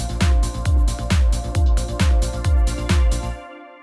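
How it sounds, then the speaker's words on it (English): A Korg PA5x keyboard plays an Electro House style beat, a loud thumping four-on-the-floor kick with bright hats and synth layers, about eight pulses before stopping abruptly. "So that's the sound of the Electro House beat."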